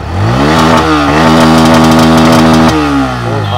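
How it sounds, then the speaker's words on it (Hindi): Bajaj Pulsar N160 motorcycle engine idling at close range, then revved several times, its exhaust note rising into a sustained high-rpm hold before dropping back to idle, loud and alone. "आइडियल कंडीशन पर engine sound, exhaust note, throttle देता हूँ।"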